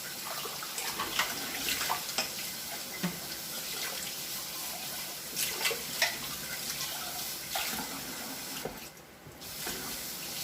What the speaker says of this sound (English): Put some water at the bottom of my pan.